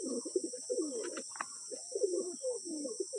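Lotan pigeons coo in a run of low, throaty burbles, several rolling phrases close by with faint chirps in between and a steady high hiss behind them.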